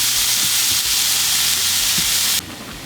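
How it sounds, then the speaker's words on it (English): Bacon sizzles in a pan while it crisps and renders, a loud steady hiss with faint low knocks underneath, dropping abruptly in level near the end. "We're gonna get our bacon into our pan, we're gonna get this crisped up and rendered out."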